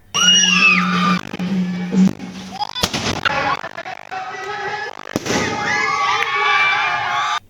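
Firecrackers crack and pop in loud bursts amid a lively street crowd during a Ganesh immersion procession, with children shouting and a steady whistling hiss running underneath.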